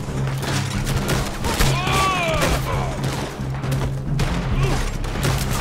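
Rapid gunfire bursts crackle in a Red Dead Online firefight, several close shots layered with distant pops and whistling ricochets over a steady low rumble, with brief talk mixed in.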